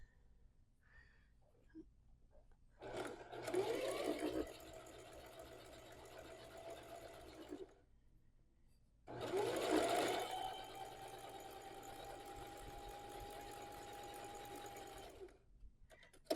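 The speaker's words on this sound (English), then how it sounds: "we're just going to stitch with a 1/4 inch seam allowance" A sewing machine stitches fabric pumpkin pieces at a quarter-inch seam allowance, with two distinct bursts of steady mechanical whirring, the second longer, separated by a quiet pause.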